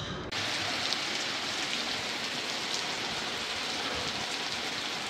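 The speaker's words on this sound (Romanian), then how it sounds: "Gata, a început și ploaia." Autumn rain begins outdoors: after a brief quieter start, a dense, steady patter of drops sets in and holds evenly, with no voices over it.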